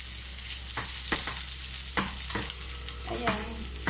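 Meat browns in a pan for sautéed mung bean stew, giving a constant hiss of frying with a few sharper scrapes and pops from stirring, and no voices.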